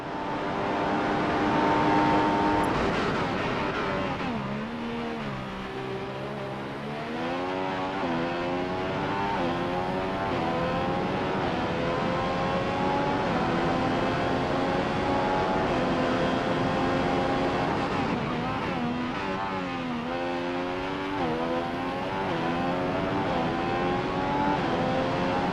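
F1 race car engine from F1 2015 on a qualifying lap at the Bahrain Grand Prix, screaming loud and continuous as it climbs through the gears, with repeated rising pitch sweeps and brief dips for shifts and braking.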